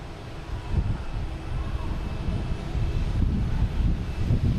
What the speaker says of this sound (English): We have a JetBlue coming in from Miami, an A220. Should be here any second.